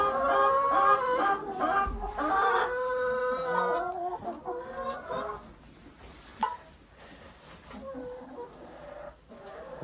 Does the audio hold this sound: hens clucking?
yes